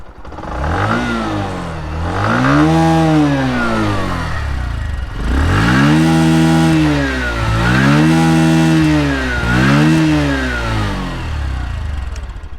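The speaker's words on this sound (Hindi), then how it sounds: "let's start the motorcycle, let's listen to the exhaust note and then we'll ride it" Bajaj Platina 110 motorcycle engine started and revved repeatedly, a close mid-pitched exhaust note rising and falling in several blips over a steady idle, with no talking.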